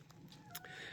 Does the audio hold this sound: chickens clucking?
yes